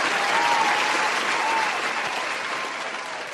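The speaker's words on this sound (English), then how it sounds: "Let me give another round of applause for the brother, Cyberdyne, for his birthday." A round of applause for a birthday from a crowd, dense and sustained clapping that stays loud and steady before easing slightly toward the end.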